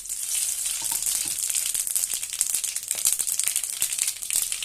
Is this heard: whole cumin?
yes